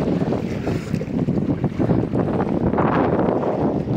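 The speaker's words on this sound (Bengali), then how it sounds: "নৌকাটা কিন্তু চলছে আর পালতোলা তিরপালের মাধ্যমে বাতাসের সাহায্যে নৌকাটা আগাচ্ছে" Strong wind buffets the microphone while water sloshes and rushes past, a wooden boat under a tarpaulin sail crossing the Padma River at speed, loud and continuous.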